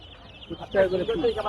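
Chickens for sale at the busy Hemayetpur livestock market in Savar give a brief, faint burst of clucking amid low crowd murmur and voices.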